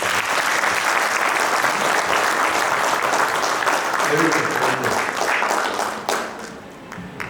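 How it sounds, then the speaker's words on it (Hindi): Loud, sustained applause from a crowd at a corporate event, many hands clapping in a thick continuous wash that thins out and tapers toward the end. "एक ताली होना चाहिए"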